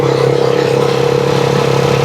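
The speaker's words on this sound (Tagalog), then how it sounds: "maingay yung makina mo pagka hindi maganda yung lakas" Rusi Chariot 175 motorcycle engine running steadily up close, a loud, even mechanical hum with a low throb that holds for about two seconds without any talk.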